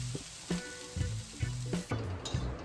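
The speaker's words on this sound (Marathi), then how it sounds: "तसेच कांदा जरा परतावा, चांगला ब्राऊन करायचा." Onion sizzling in hot oil as it is sautéed and browned in a pan, with steady frying hiss broken by rhythmic scraping stirs about every half second.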